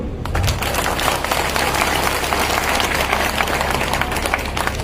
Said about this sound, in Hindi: तालियां थोड़ी कम बनी।